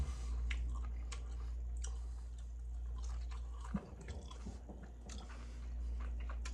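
Fried zucchini dipped in ranch being chewed close up, with soft crunchy bites and wet squishy mastication over a steady low background hum, no talking.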